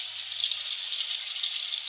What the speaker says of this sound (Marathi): आता मी तेलामध्ये टाकते बघा मसाला.